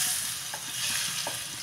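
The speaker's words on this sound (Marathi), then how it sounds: "त्याच्यानंतर त्याच्यामध्ये मेथी घालायची, चांगली परतून घेतली" Fenugreek seeds frying in oil in a pan, a steady hiss of sizzling with a few soft stirring taps, close and continuous.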